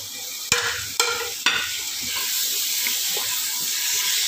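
Three quick scraping strokes of a spoon stir chopped carrots into spiced masala in a pan, then a steady hissing sizzle of the frying vegetables continues on its own.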